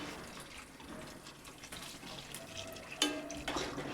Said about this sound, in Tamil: தண்ணி ஆட் பண்ணிக்கோங்க கொஞ்சமாக